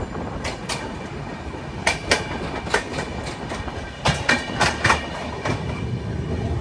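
Superfast express train from Bengaluru to Guwahati rumbles steadily along the track, with irregular clicking wheel clacks and brief sharp knocks over a constant low roar heard from inside the carriage.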